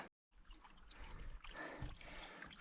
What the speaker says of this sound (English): fresh glacial water.